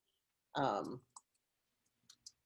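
Computer mouse clicks on a desktop during a web resource demonstration, a few faint, sharp single clicks spaced apart, following a brief burst of speech.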